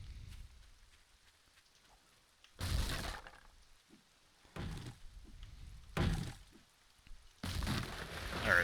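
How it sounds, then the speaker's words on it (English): Rain hisses down in the survival video game 7 Days to Die, swelling in four loud, noisy bursts separated by quieter stretches. "I need you to not be raining, game, so that I can see what the hell's going on"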